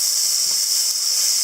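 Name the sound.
onions sautéing in a pot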